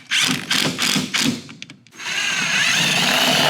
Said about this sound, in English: then we'll drill our hole and put our 3rd piece of hardware through